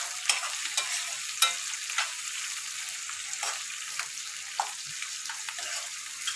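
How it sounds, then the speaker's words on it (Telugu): Onions and curry leaves frying in a pan, a steady bright sizzle with soft scrapes and taps from a spoon stirring them every second or so, close and continuous. "వేసిన తర్వాత మంచిగా ఒకసారి కలపాలి"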